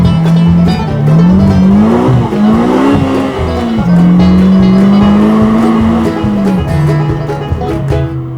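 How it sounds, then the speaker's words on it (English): Polaris Slingshot R launching hard as its rear tire breaks loose, a loud close engine roar rising and falling with a sustained tire squeal and skidding screech. "It's super easy to get that rear tire to break loose on launch."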